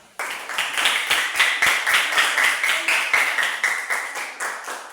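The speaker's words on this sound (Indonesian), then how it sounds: "Ya, tepuk tangan." Students in a classroom clap in unison for a steady stretch, a quick rhythmic run of sharp, close claps repeated evenly for several seconds.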